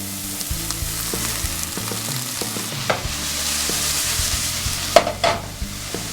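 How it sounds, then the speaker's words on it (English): Onions frying in a pan for chorizo tacos give a steady sizzle with stirring clinks and scrapes, plus a few sharper knocks near the end, all with no talking. "So inside, love that sizzle."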